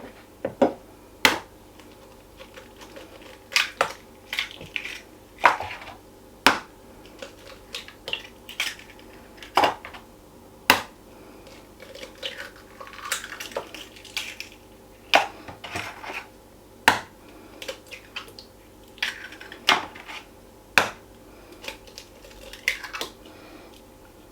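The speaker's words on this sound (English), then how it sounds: "I'm just going to crack these eggs in" Eggs cracked against a bowl that already holds milk for Yorkshire pudding batter: sharp, clicky knocks come singly or in quick pairs every couple of seconds over quiet kitchen background.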